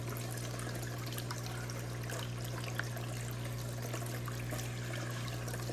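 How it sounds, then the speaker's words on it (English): Water leaking from a gold prospecting sluice in a garage, dribbling into a small catch pan; a steady, soft trickle and patter of drips continues throughout over a constant low hum. "you'll get some leak, and I just got a little pan there just to catch the drips"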